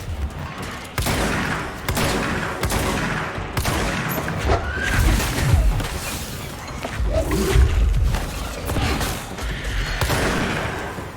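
Rapid bursts of gunfire from the video game Control, loud and close, with crashing impacts and whooshes layered over a continuous game soundscape.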